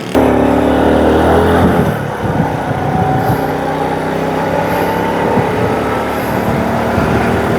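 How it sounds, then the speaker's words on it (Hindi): Steady traffic of cars and motorcycles crossing Shah Faisal bridge, a continuous loud roar of engines and tyres with passing vehicles blending together, no speech. "मोटरसाइकिल वाले यहाँ पर ज़्यादा आ जा रहे हैं, कार वाले भी जा रहे हैं।"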